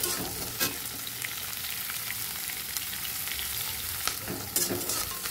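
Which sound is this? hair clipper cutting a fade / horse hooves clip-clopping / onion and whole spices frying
onion and whole spices frying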